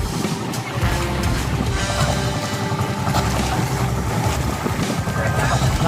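A low, steady engine rumble from motor boats on the sea off Jimenez, Misamis Occidental, beneath heavy wind buffeting and the wash of sea water, loud and continuous.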